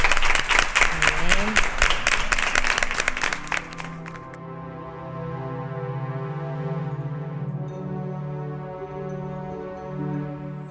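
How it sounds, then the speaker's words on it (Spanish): An audience at an education event claps for two participants, giving a dense burst of applause for about three and a half seconds before it stops and sustained tonal sound takes over. "Vamos a darle antes del paso un aplauso a estos dos compañeros."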